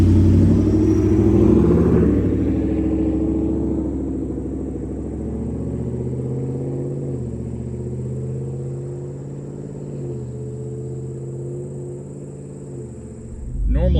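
A Ford F-150 5.0 V8 with a Borla ATAK exhaust idles with a deep, rough rumble, its revs rising and falling in a low throaty growl, loud and close throughout.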